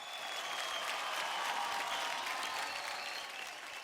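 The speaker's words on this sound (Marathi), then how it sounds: "टाळ्या झाल्याच पाहिजेत." Studio audience applauding after a couple's performance on a Marathi dance competition show, a dense steady wash of clapping that holds strong and fades slightly at the end.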